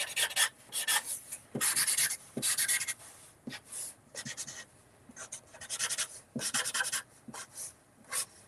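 Wide markers sweep across paper in close, repeated rubbing strokes, each a dry scratchy swish with short pauses between, steady and rhythmic, no voices.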